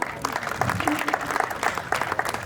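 An audience claps for a team called back on stage at a bank's Independence Day event. The applause is a steady patter of many hands under a speaking voice.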